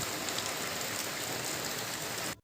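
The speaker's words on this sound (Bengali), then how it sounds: "সকালবেলায় বৃষ্টি হচ্ছে" Steady rain falls, a continuous soft hiss of drops on surfaces, ending in a brief cut.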